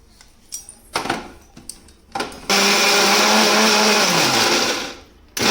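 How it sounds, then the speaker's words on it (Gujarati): A mixer grinder blends roasted onion and tomato masala into a thick gravy without added water. A few clattering knocks come first, then the motor roars loud and steady for a few seconds before winding down. "હવે જે આપણી શેકેલી ડુંગળી ટામેટાનો મસાલો છે તે આપણે મિક્સરમાં તેને"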